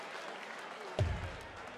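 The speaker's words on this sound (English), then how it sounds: "Hendrix family cheering on Willie." A darts crowd at the 2013 World Championship, including the Hendrix family backing Willie, bursts into a short, fairly distant swell of cheering and clapping partway through, above a low hall murmur.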